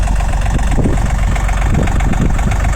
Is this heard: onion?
no